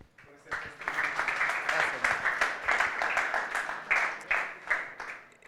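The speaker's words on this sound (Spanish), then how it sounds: "Un aplauso al Señor por ese testimonio." A church congregation at a prayer house applauds together, a dense, steady wash of many hands clapping close by that swells and pulses for several seconds, with voices mixed in.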